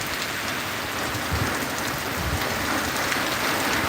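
Steady, dense rainfall from Hurricane Milton in Orlando patters continuously on surfaces nearby, an even hiss with no voices or other sounds breaking through.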